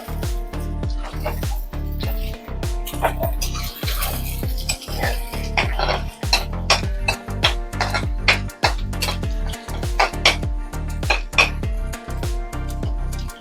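Metal spatula scraping and clanging rhythmically against a pan while stirring street-style egg fried rice, sharp repeated clinks and knocks in quick succession, close and loud.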